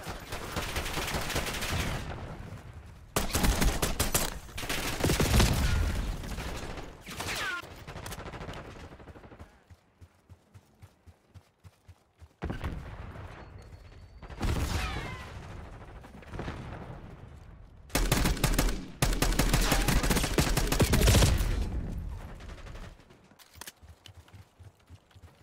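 Bursts of automatic gunfire from Black Ops 6 multiplayer, loud, close rapid volleys in several clusters separated by brief quieter gaps, with no talk.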